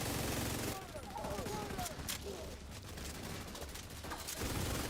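Gunfire in The Division video game, including a gold sniper rifle, comes as a burst of sharp shots, some quick and close together, along with game mechanism noises. The bursts are fairly quiet and there is no talk.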